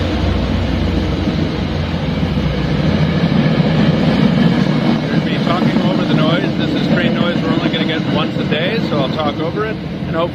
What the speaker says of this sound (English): with an MBTA commuter rail train running by